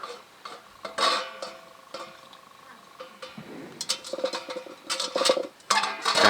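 Washed leafy greens for gundruk are chopped into small pieces with a knife on a board, making sharp, irregular tapping knocks. The knocks come in uneven clusters, sparse at first and then faster and denser.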